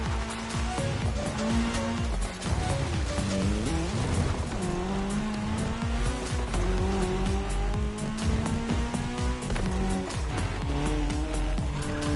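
Race cars in The Crew Motorfest tearing across tarmac during a cross-terrain Red Bull race, engines droning and shifting pitch with repeated tire squeals and skids, loud and continuous, no talk.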